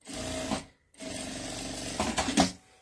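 A Jack A4 industrial sewing machine stitches a safety seam on fabric for a messenger bag in two near, steady whirring runs split by a short pause, with the second run ending in a rougher burst.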